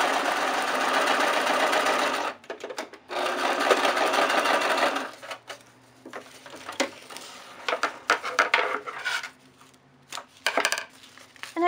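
A sewing machine stitches through four layers of crepe paper in a fast steady whir, broken into short bursts and pauses with small clicks between runs.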